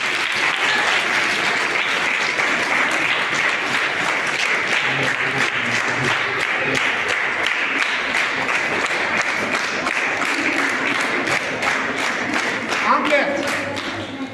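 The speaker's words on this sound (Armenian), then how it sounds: "Ծափարեք իմ երեխեքին" An audience applauding schoolchildren at an Armenian year-end event, sustained loud clapping from a large crowd that carries on evenly for the whole stretch, with some voices mixed in.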